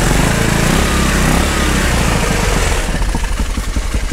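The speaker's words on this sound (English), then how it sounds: "Got my engine running." A 150cc go-kart engine runs loud and close outdoors in the snow, a steady drone that breaks into choppier revving pulses near the end.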